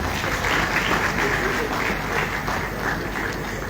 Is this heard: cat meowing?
no